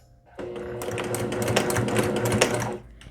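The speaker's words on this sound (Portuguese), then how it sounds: "eu vou fazer um retrocesso aqui para começar a minha costura" Sewing machine stitching fabric, beginning a seam on a fabric hanger organizer, runs as a steady rapid mechanical whir with a fast rhythmic stitch clatter for about two and a half seconds, fairly close and alone.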